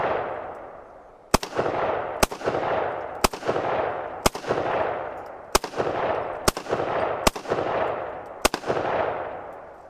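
Mini 14 rifle firing eight sharp, loud shots in a steady quick rhythm, each crack followed by a long decaying outdoor echo that fills the gap before the next shot.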